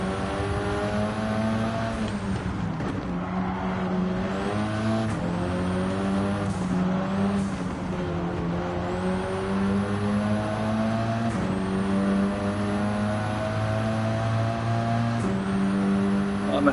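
A Ford Escort Cosworth engine drones loudly in a racing game, rising repeatedly in pitch through the gears with brief drops at each shift, steady and close throughout.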